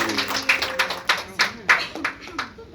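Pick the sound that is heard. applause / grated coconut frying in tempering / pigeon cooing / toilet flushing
applause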